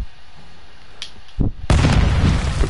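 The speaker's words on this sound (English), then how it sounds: "Grenade." Grenade explosion in Call of Duty DMZ: a quiet lull, a short sharp thump, then a loud booming blast with a rumbling roar that stays up to the end, close and heavy.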